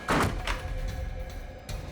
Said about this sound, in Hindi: दरवाजा क्यों बंद किया है? खोलो।